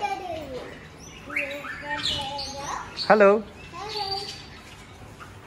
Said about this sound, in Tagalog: Dami nilang ibon dito. May mga lorikeets din oh.